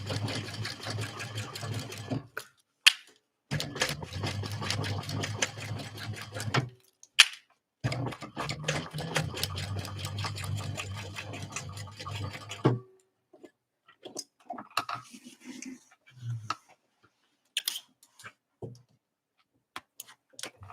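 Sewing machine stitching a narrow 1/8-inch seam to close a pocket on a tote bag, close, rapid ticking runs in a few bursts with short pauses, then scattered handling clicks and rustles.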